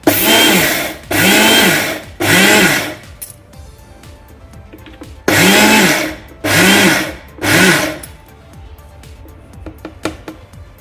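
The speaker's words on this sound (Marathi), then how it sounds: "मिक्सर ऑन ऑफ करत आपण हे वाटून घेणार आहोत" A mixer grinder grinding sesame seeds whirs in six short, loud bursts, switched on and off in two groups of three, with brief quiet gaps between pulses.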